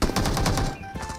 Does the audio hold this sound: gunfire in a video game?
yes